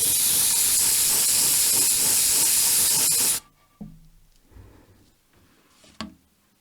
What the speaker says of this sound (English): I like doing it with an airbrush so I can get a nice thin, even layer of a couple coats.